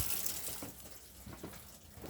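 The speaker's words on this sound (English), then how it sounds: "to allow the water to run back out the pipework." Steady running water with a hissing, splashy wash from opened taps draining a 2018 Elddis Crusader Mistral caravan's water system, continuous and moderately close.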